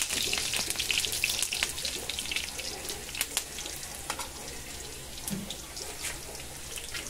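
Onions sautéing in a pan for Filipino ginisang kamatis, a steady, moderately loud hiss and crackle of frying with scattered pops and a few faint clinks.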